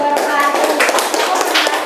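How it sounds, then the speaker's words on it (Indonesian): A university classroom in Indonesia full of people clapping steadily, a dense patter of applause that fills the whole stretch without pause. "Beri tepuk tangan untuk kelompok 1"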